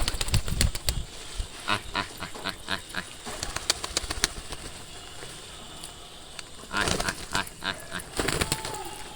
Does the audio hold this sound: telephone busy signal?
no